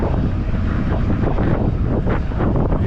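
Strong headwind buffets the microphone in Sudak, Crimea, a loud continuous roaring rumble with gusty swells, steady throughout and alone with no voices.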